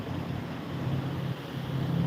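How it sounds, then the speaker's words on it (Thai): Strong sea wind at the coast roars as a steady, low, noisy rush, with no one speaking. "ต้องอาจจะใส่หน่อยนะลมทะเลมันแรง"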